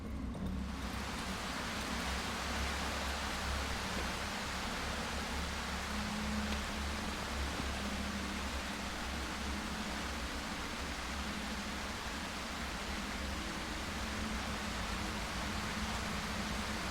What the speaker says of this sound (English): It always has to rain when I'm trying to explore things.